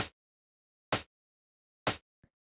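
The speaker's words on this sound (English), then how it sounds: "So it's just like a standard like Romanian minimal style clap." Romanian minimal house clap built from a layered snare and rim shot: three short, sharp, dry hits about a second apart, each cutting off cleanly into silence, followed by one tiny faint tick.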